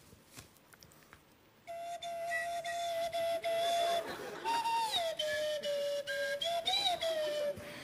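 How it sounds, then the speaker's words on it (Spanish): A whistling umbrella gives a reedy, wavering whistle sliding up and down in pitch, played as a pulsing melodic line with quick rhythmic cuts over faint background chatter. "Este es un paraguas silbador."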